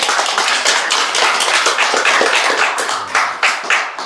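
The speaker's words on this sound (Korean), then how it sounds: "수고했다고 박수로." A church congregation claps together, a loud, close and dense burst of many hands that keeps an even pace for about four seconds before breaking into a few scattered final claps.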